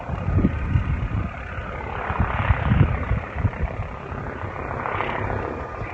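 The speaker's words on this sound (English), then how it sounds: "It's a police helicopter." A police helicopter passes overhead with a steady, throbbing rotor drone that swells and fades at moderate loudness, heard alone.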